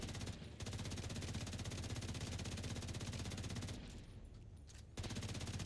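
Rapid, sustained automatic gunfire in The Division, a dense stream of shots in a zoo area, briefly easing near the end before resuming at full intensity, with no talking.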